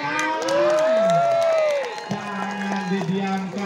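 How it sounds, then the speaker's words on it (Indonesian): A crowd cheers and shouts at a local tarkam match in Sukabumi, loud and continuous, with long rising whoops and voices over the roar. "berikan tepuk tangan"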